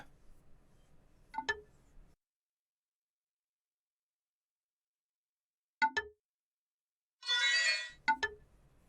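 Phone dialing in the video game Simulacra 2: sparse, bright electronic tones sound in short bursts separated by silence, with a brief buzzy electronic burst near the end.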